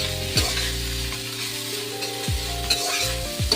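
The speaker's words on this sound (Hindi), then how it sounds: "सबसे पहले मैं पत्ता गोभी को अच्छे से कर लेती हूँ। इसे अच्छे से फ्राई करेंगे हम।" Cabbage stir-fried in a pan, with a steady sizzle and a few sharp scraping stirs of a spatula at intervals, close and alone.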